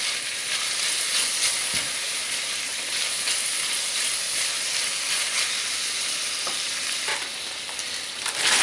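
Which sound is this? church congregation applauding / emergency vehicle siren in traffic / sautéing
sautéing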